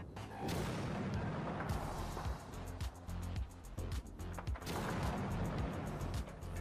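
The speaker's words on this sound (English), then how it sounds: "two missiles just come in from the stacks up here and slam into the ground, creating massive explosions" Missiles slam into the ground as a sound effect in a sci-fi tabletop game, with heavy booming blasts and rumbling impacts, a dense loud barrage with two main surges.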